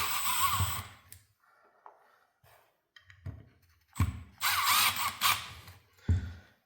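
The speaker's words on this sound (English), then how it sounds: "These screws, you're going to take two of the screws out," Screws being backed out of a Yamaha Wolverine 850 primary clutch with a power driver or ratchet: several loud mechanical bursts of whirring and clicking, separated by quieter pauses and faint metallic handling.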